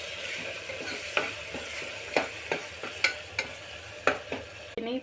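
Onions fry with salt and turmeric in a steady close sizzle, broken by regular sharp scrapes and taps of a spoon stirring the pan about once a second; no talking.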